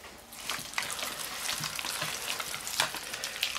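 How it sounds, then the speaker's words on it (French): Egg being stirred into cooked rice for a Verviers rice tart, giving a steady wet, sticky scraping and squelching with soft clicks of a utensil, close and moderately quiet with no talking. "Maintenant, mélanger l'œuf"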